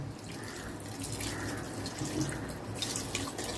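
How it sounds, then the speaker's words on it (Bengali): Water is poured in a thin splash into a pot of khichuri cooking over lowered heat, a steady liquid trickle running for a few seconds alongside kitchen background noise. "সামান্য একটু জল দেব, অল্প, বেশি না"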